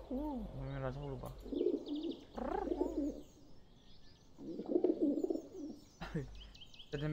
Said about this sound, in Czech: Holub?